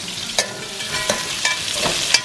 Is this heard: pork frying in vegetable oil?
yes